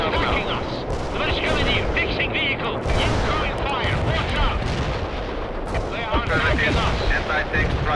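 Incoming gunfire and artillery in the video game World in Conflict: rapid machine-gun bursts and heavy booming impacts pound continuously at close range, while voices call out over the battle.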